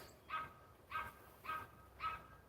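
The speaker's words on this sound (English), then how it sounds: "And time I go live, the freaking dog making all this noise." A dog barks four times at an even, unhurried pace, each bark short and moderately distant, heard indoors with no talking.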